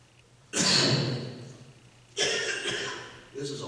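A person nearby coughs in two long, harsh bursts, followed by the start of a shorter third, with quieter room tone in the gaps between them.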